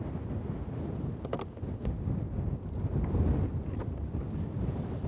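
Steady wind blowing across open water beside a bream feeder-fishing spot, a broad continuous rush buffeting the microphone with a few faint brief ticks, no talking.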